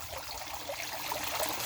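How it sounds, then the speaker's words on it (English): Streams of water spill from about two dozen holes near the top of a 5-gallon bucket holding soaking barley, making a continuous splashing trickle with no talk. "those holes spill streams of water"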